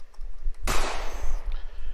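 A single loud explosion goes off in an Unreal Engine 4 game, a sharp blast that rolls out into a fading rumble over about a second against quiet background noise.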